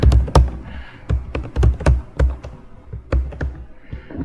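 Irregular bursts of keystrokes on a computer keyboard while entering X and Y positions in a drag-and-drop DataWindow interface, close and fairly loud, with clusters of quick taps and short pauses between them.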